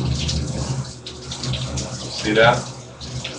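Hot water runs steadily from a shower head during a water heater test, a close, continuous hiss and splatter, with someone speaking briefly over it.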